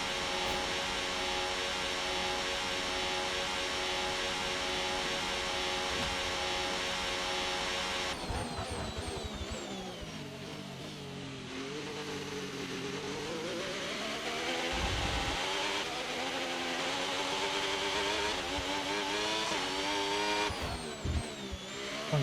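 A race car engine in the F1 25 video game, heard during a rainy session at Shanghai, whines and buzzes continuously for over twenty seconds. Its pitch rises and falls through gear changes and throttle lifts, loud and steady with no talk.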